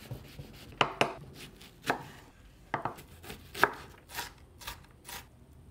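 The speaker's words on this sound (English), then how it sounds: "here's me cutting an onion" Knife chopping an onion on a cutting board, for spaghetti bolognese: a dozen or so close, crisp chops in an uneven rhythm with brief pauses between strokes, no voices.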